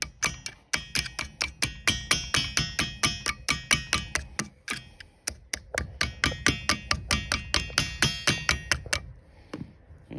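Rapid, sharp metallic hammer taps strike a rusty rear shock absorber fitting on a Montego T16 Turbo, dozens of close, loud blows in a fairly regular rhythm with a few brief pauses, no talking.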